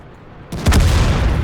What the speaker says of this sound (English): the explosions in here are really awesome